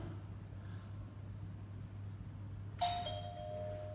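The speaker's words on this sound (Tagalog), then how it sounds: "Nag-doorbell ulit ako kasi nga ang tagal." A single doorbell chime rings out clearly partway through, its tones lingering over a quiet, steady low hum.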